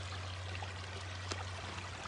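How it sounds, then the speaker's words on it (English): Water pouring and streaming steadily into a worksite, a constant rushing flow with a faint trickling texture and a low steady hum beneath it. "This water never stops. It's coming in through the site here"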